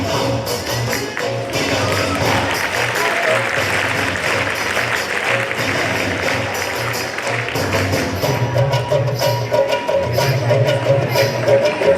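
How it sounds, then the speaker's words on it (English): A school annual function crowd applauds its dancers in a dense, loud, sustained wash of clapping that continues steadily for the whole stretch, with faint murmuring underneath. "let's give a hand of applause to our dancers"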